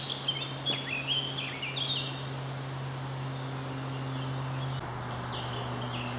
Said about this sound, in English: There's a blackcap there singing